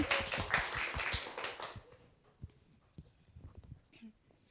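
Audience at a campus talk show clapping in a dense, lively burst for about two seconds, then fading to a few scattered claps and quiet room noise.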